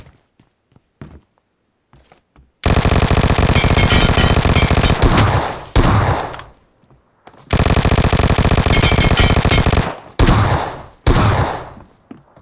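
Sustained automatic gunfire aimed at a boss in the Metro Royale video game comes in two long, loud bursts, each trailing into shorter volleys, with brief quiet gaps and scattered thumps between them.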